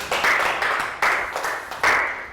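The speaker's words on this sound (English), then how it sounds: "Round of applause for Nadia." A classroom of young pupils in a Year 3 math lesson gives a short round of applause in three quick bursts of clapping, close and fairly loud.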